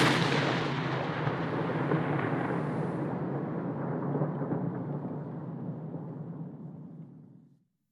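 A big game-audio explosion recording opens with a deep, rumbling boom that rolls on with a long, gradually fading low tail before cutting to silence.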